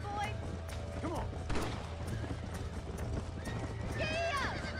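Horse hooves clip-clop and a horse neighs in a Red Dead Redemption game scene, with game music, effects and voices mixed around the steady footfalls.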